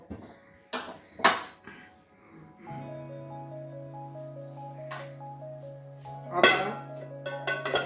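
A metal lid set over a pot of simmering bean, eggplant and greens curry, several sharp clinks and clatters of metal on metal, close and fairly loud, with a sustained ringing hum in between.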